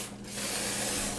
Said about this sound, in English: I'm just going to use my non-stick spray and spray